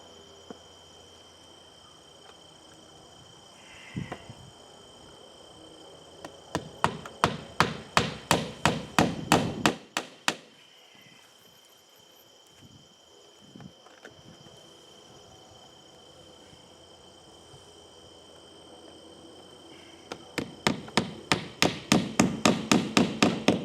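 Roofing nails, about 1.25 inch, are hammered into vinyl siding on a barn workshop addition, two runs of rapid sharp hammer blows, one mid-clip and one at the end, with a single tap earlier and quiet gaps between.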